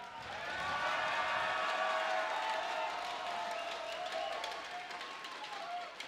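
A large esports crowd at an IPL 5 League of Legends match cheers and roars steadily, a dense wash of voices with scattered whistles, sustained loud throughout.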